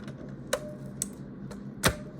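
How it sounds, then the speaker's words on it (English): Keys on a computer keyboard are pressed in the background during a fingerboard unboxing. A few sparse, sharp clicks land about half a second apart, faint and alone in a quiet room. "Pressing all the keys in the background."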